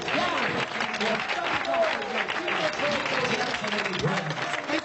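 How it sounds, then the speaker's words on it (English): A crowd applauds steadily and loudly throughout, with a few cheers mixed into the clapping. "Hey, don't be clapping him"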